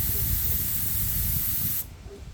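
Air hissing out of a Mustang tire valve, a loud, close, steady spray-like hiss that cuts off abruptly near the end, leaving faint background noise.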